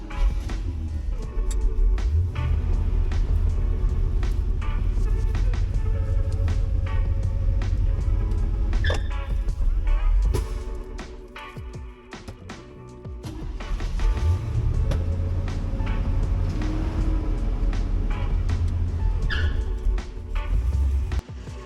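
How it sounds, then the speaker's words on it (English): Abandoned Corvette driven for the first time in 20 years, a loud engine rumble with rises and a brief lull midway, plus scattered clicks and knocks, no voices. "All right, first drive in the Corvette."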